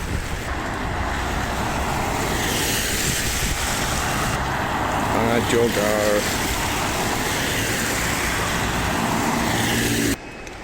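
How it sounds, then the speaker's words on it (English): Busy Glasgow street traffic with a bus, a truck and a digger among passing vehicles, a steady loud rumble of engines throughout and a voice speaking briefly over it. "the bus is behind the truck and the digger"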